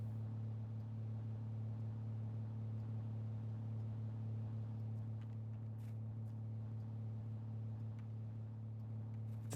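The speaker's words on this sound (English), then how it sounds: "I don't want to keep the engine running too long" A car engine idles steadily in Drive Beyond Horizons, a faint, even low hum with no change in pitch throughout and a few soft clicks late on.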